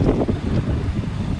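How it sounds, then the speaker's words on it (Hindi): Cold wind blows steadily in the rain, a continuous low buffeting rush close to the microphone with no voices. "इतनी ठंडी ठंडी हवा चल रही है"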